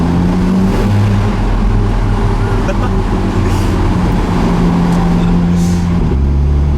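Alfa Romeo 4C Spider with a 6-speed dual-clutch transmission driving through a tunnel, its loud, steady engine drone echoing throughout, with someone talking over it.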